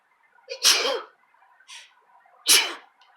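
Two loud, close sneezes, one early and one near the end, with a softer breathy sound between them.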